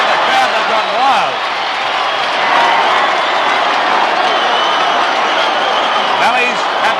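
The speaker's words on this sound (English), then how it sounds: "Look at the crowd, they've gone wild." A rugby league grand final crowd, Valleys against Norths in Brisbane in 1970, roars and cheers after a goal kick, a sustained wash of noise with a commentator talking over it.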